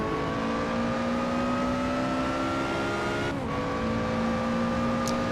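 A Lotus Exige Scura at Imola in Assetto Corsa accelerates hard, its engine drone climbing steadily, then dipping briefly at a gear change before pulling up again, loud and close.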